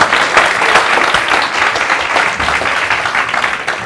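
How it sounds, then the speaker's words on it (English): Loud, close clapping from a crowd at a comedy magic show, a thick continuous burst of many hands applauding without pause throughout. "Give a big clap"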